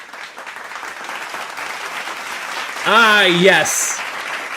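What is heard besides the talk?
audience applause at an award show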